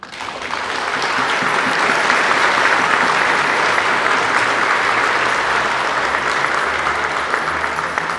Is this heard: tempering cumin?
no